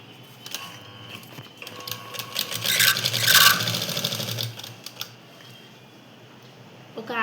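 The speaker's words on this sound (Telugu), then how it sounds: "ఇట్లా కుట్టు వేసుకుంటున్నా." An electric sewing machine stitches the hem of a pair of trousers, a soft rapid mechanical whir that swells in the middle of the clip and then fades to quiet handling noise.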